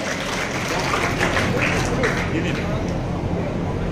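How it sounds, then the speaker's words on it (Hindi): Dense, continuous applause from a crowd at a student award ceremony in Bawatara, a steady wash of clapping mixed with background chatter. "जोरदार ताली बजाकर हौसला अफजाई कीजिए।"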